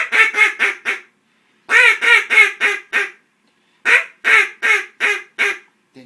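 A duck call blown in short bursts imitates mallard quacks, in three quick runs of four to five sharp, nasal quacks separated by brief pauses, loud and close with no talking.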